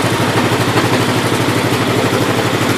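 A 1974 Gravely 812 tractor engine runs in low range, first gear, a loud, close, steady rhythmic chugging with a clattering mechanical pulse throughout.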